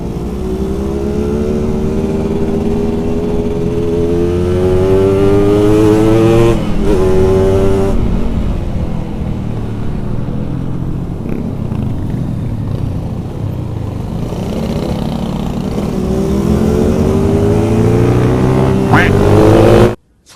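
A Yamaha RX King two-stroke motorcycle engine revs hard while racing on the road. The loud, raspy whine rises and falls through gear changes, close and continuous for about twenty seconds before it cuts off abruptly.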